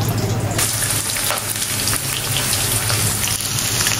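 Whole cloves and garam masala sizzle in hot oil for a mutton korma, a loud, steady crackling fry that runs unbroken from start to finish with no voices.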